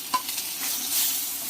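Crushed shallots, garlic and green chili hitting hot oil with popped mustard seeds in a pan, giving a steady broadband sizzle with a brief stir clatter near the start, close and moderately loud with no talking.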